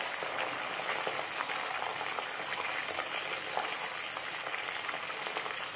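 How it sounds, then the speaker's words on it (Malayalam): Aloe vera frying in hot oil for a homemade herbal hair oil, producing a dense, even crackling sizzle that holds steady and close with no voices. "നമ്മൾ കറ്റാർവാഴ ആഡ് ചെയ്ത് കൊടുക്കുന്നത് ഒന്ന് നല്ലോണം പൊരിയാൻ തുടങ്ങും."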